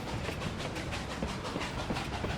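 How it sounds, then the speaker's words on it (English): A train chugs in a steady, rhythmic clatter with wheels clicking over the rails, loud and close throughout, with no voices. "Give me some chugging noises,"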